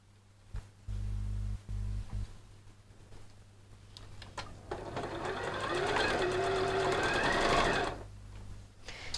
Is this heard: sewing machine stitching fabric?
yes